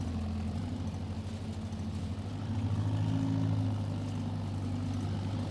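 A leased tractor engine idles steadily in Farming Simulator 22, a low continuous drone with a slight swell in level midway and no speech over it.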